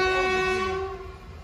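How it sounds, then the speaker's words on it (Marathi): A train arriving at a railway station, a sustained tonal horn blast that fades over about a second and a half, moderately distant with low rumble beneath. "रेल्वे आली आता."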